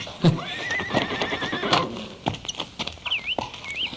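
A horse whinnies with a high wavering neigh, then snorts and calls again while its hooves clip-clop in an uneven rhythm nearby, the sounds standing alone without talk.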